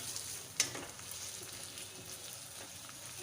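Ginger and garlic paste sauté in a pan, a faint, steady sizzle close by with a single sharp spatter or utensil clink early on, no voices.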